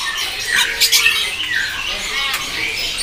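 Red lory parrot at a bird kiosk giving loud, harsh repeated squawks, close and dominant, several sharp calls in a few seconds with no talk.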